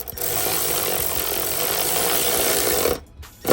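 A power ratchet with a wobble head runs steadily on Sea-Doo intake manifold bolts, a close, loud buzzing whir for about three seconds, then a brief pause and a restart.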